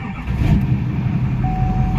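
LBZ Duramax diesel truck engine catching and settling into a loud, steady rumble close by, with a thin high tone running over the idle partway through.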